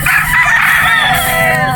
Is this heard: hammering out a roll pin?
no